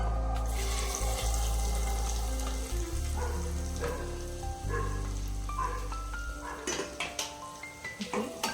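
Carrots added to hot ghee in a pan for gajar halwa: a steady loud sizzle and frying hiss, later thinning out as utensils clink and stir against the pan with a few sharp knocks.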